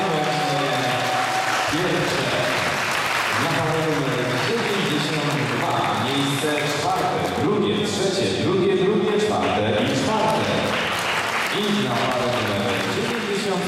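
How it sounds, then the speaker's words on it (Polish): Audience applause at a Latin-style ballroom dance competition in Wrocław, sustained clapping throughout while an announcer speaks over it. "Proszę Państwa, wielkie brawa."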